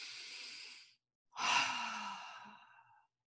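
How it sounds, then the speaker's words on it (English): Two slow, deep breaths are heard up close during a guided well-being meditation. One soft breath fades out, and after a short silence a fuller, sighing breath follows and then trails away. "Take a breath in."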